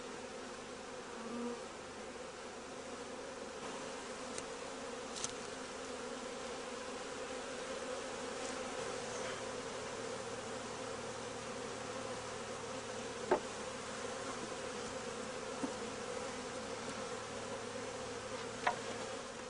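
Honey bees in a hive give a steady, dense drone that holds throughout at an even level, with a few faint clicks and knocks over it.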